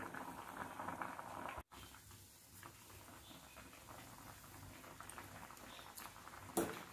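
A sweet mixture simmers and boils in a cooking pot, giving faint, continuous bubbling and light pattering throughout, with no speech over it.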